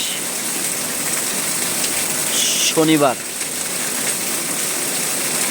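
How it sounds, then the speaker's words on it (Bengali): Heavy rain pours in a steady, dense hiss throughout in Mirpur, Dhaka, with a single brief spoken word cutting in partway. "প্রচণ্ড বৃষ্টি পড়ছে"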